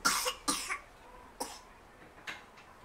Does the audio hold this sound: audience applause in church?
no